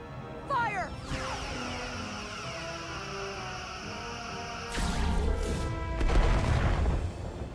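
Starship weapons in Star Trek: Resurgence fire and strike home, a swooping energy discharge followed by heavy crashing impacts and booming hits that grow louder toward the end, with no talk over them.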